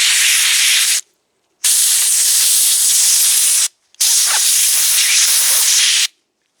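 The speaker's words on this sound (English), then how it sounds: "We'll give them one more shot with the air compressor." Compressed air from an air compressor blasts through cleaned STIHL chainsaw spark arrestor screens in three long, loud hissing bursts, each a couple of seconds, separated by brief silences.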